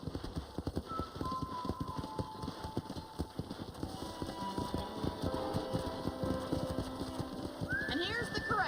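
Horses in a ranch corral in Red Dead Redemption, with brisk, repeated hoof clip-clops close by and a rising whinny near the end, under ambient background sound.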